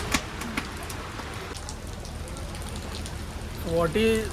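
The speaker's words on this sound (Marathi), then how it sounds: "एक शांत समुद्र, आज त्याच्यात पाऊस पण मिळाला आहे आपल्याला" Steady rain patters at a beach in Alibaug in a soft continuous hiss, with a few brief voices and a short louder sound near the end.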